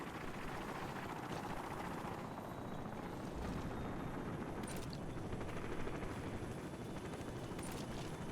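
Helicopter rotor drone from the Call of Duty 4 video game, a steady dense churning roar running continuously throughout with faint higher whine, no talk.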